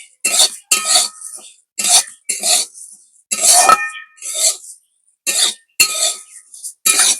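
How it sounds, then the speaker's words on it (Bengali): Rice soaked in salt water is stirred in a hot wok for a Bengali chal bhaja snack, giving close, irregular bursts of dry scraping and rattling grains with short pauses between strokes. "লবণ জল মাখানো চালটা একটা কড়াইয়ের মধ্যে দিয়ে 5 মিনিট নাড়াচাড়া করে নেব।"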